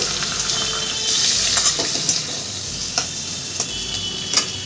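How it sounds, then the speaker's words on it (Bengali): Chapila fish curry with mustard and poppy seed paste sizzles loudly in a pan as water is added, making a steady close hiss that swells briefly and is broken by a few sharp stirring clicks. "মাছগুলো দিয়ে আমার কষানো হয়ে গেছে এবারে আমি এর মধ্যে জল দিব"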